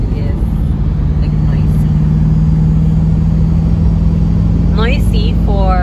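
Car engine heard from inside the cabin while driving near Loch Lomond, Scotland, a loud steady low drone with a constant hum throughout and a brief squeaky whine near the end.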